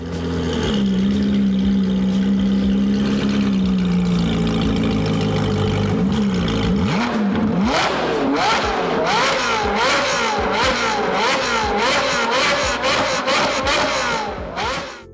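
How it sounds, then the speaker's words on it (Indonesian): A flat-plane V8 engine idles with a low, throbbing rumble, then revs repeatedly in sharp, rising bursts, loud and close. "itu dia karakteristik suara dari mesin V8 flatplane"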